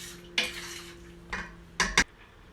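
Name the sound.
stirring chicken paprikash mixture in pot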